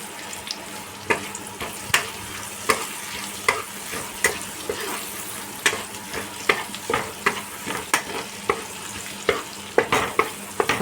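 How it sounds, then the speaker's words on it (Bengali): Onions frying with turmeric and Kashmiri chili for a crab dish, with a low continuous sizzle broken by repeated sharp scrapes and clanks of stirring at an uneven rhythm, no speech. "আমার পেঁয়াজটা সুন্দর ভাজা হয়ে গেছে।"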